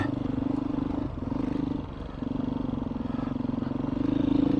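A 2021 Beta 500 dirt bike ridden over loose gravel on a mountain trail, its engine droning steadily close by with a brief dip midway and a slight rise in effort at the end, with light clatter underneath.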